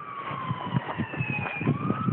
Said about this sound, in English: As you can hear it, there's sirens already.